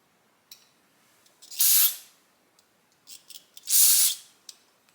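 Spray is blown through a passage in a 2006 Honda CRF450R part in two loud, close hissing bursts about two seconds apart, with small clicks and handling noises between them.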